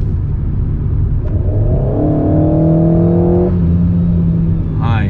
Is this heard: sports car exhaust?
yes